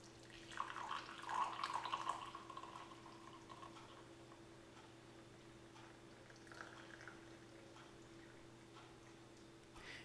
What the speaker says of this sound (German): Diese Tabletten geben wir in eine Tasse. Dazu wird heißes Wasser gegossen.